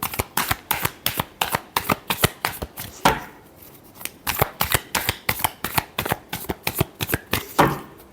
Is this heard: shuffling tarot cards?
yes